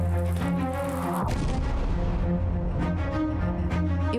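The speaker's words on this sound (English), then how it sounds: "Quick, fire your cannon." A cannon fires at pirate canoes on a river in Borneo, a deep booming blast that rolls out loud and close, followed by a rumbling, crackling tail that fills the whole moment.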